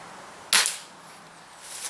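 A single HW57 air rifle shot at a knockdown target downrange: one sharp, crisp crack that decays over a fraction of a second, followed later by a faint, distant impact tick.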